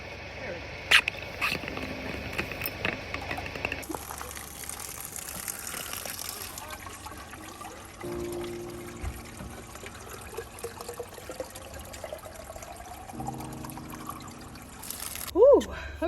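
Fresh mountain spring water filling a container, a continuous trickling pour heard up close, with shifts in the flow partway through and a brief sharp squeak near the end.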